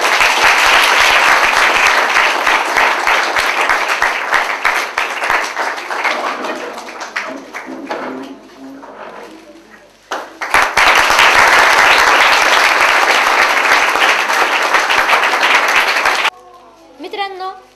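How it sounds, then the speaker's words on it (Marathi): An audience claps for Chintu in loud, dense applause that fades and then swells again, broken by a short pause and ending abruptly as a voice starts. "आता सर्वांनी चिंटूसाठी टाळ्या वाजवाव्यात."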